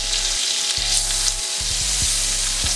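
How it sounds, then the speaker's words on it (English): A stick of butter melts into hot oil in a pan, giving a close, continuous sizzle with a low hum that cuts in and out in short bursts. "I'm gonna go ahead and add a stick of butter to it"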